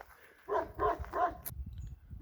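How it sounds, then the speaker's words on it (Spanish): Dogs barking beside a road, three quick barks in a row, mid-distance and moderately loud, followed by quiet outdoor background. "vámonos de aquí que hay perros"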